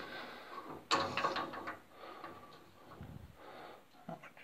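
A seized household stop cock is forced with a tool: one sharp metallic clack, then quieter grinding and ratchety clicks close by.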